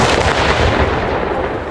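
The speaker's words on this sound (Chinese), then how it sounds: "俄罗斯 KH 三一战术飞弹六百公尺外落地爆炸" A Russian Kh-31 tactical missile strikes the ground about 600 meters away, a loud broadband blast that rolls on as a rumbling, crackling roar for a couple of seconds.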